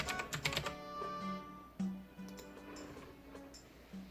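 Keyboard typing on a computer, a fast burst of clacking keystrokes up front followed by sparser taps over a steady background hum.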